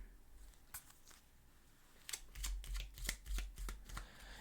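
Tarot cards being shuffled close by, quiet at first with a few soft flicks, then a run of crisp riffling bursts and slaps, with no talking.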